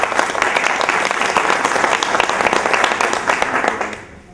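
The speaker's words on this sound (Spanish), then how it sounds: "Un aplauso, por favor" Sustained applause from an audience at a health-product testimonial gathering, dense and fairly loud, holding steady for several seconds before tapering off at the end.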